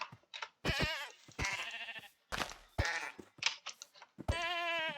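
A goat in a video game bleats repeatedly, a series of short and drawn-out nasal cries close and clear, spaced with brief pauses and no speech over them.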